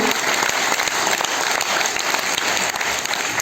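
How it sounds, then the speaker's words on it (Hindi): An audience at an award ceremony claps steadily throughout after a performance by India's Ministry of MSME, a dense, continuous wash of applause with no talking over it. "I would request everyone to give big round of applause."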